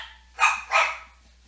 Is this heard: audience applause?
no